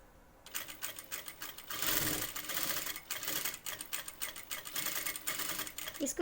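A sewing machine stitches pintucks into bias-cut fabric, its needle chattering in quick, even bursts that run close and fairly quiet, with brief pauses between runs and no talking.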